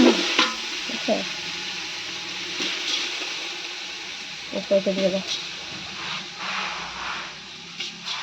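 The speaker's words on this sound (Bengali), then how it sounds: "চালটা প্রায় ভাজা হয়ে আসছে আর একটু সময় ভাজুম" Rice frying in a pan, an intermittent sizzle with scraping stirs and spoon knocks close by, while a person talks over parts of it.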